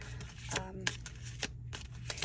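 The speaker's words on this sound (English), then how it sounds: "with shuffling this deck" A tarot card deck is shuffled by hand in quick papery riffles and flicks, close by, heard under a soft speaking voice.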